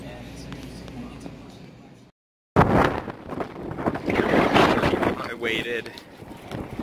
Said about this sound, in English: It's super windy and super cold out right now.